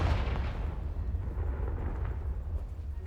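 A Confringo blasting spell detonates in Hogwarts Legacy, a deep booming explosion with a heavy low rumble that rolls on and slowly decays, loud and without speech.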